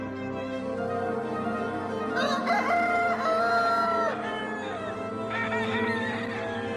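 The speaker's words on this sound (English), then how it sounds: "It's the roosters." Several roosters crow from a short distance over steady background noise, the long drawn-out calls overlapping and repeating in the open air.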